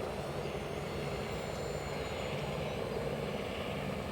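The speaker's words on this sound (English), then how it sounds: "it looks like there's a helicopter up there" A helicopter flying overhead, a steady, continuous distant rotor drone holding at an even level for the whole stretch, with no talk.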